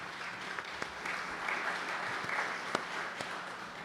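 An audience at a summit claps in a dense, steady patter of applause, moderately distant, with a few sharper individual claps standing out.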